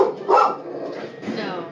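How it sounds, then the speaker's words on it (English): A pet dog gives a short bark or yelp at close range, heard once amid people talking and chatting in a living room. "Our dog Minnie is protecting her."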